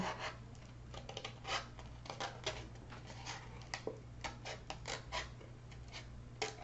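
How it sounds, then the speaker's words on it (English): Small scissors snipping a little slit in material for a no-sew mini top hat, a series of quiet, irregular crisp clicks and snips close to the mic over a steady low hum. "so just cut a little slit there"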